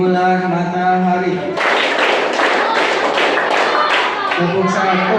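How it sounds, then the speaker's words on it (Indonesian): Hands clap in a classroom clapping game, a quick run of sharp, rhythmic claps from a group with voices just before and after. "Tepuk 1, tepuk 2, tepuk 3, tepuk 13. Tepuk tangan semuanya."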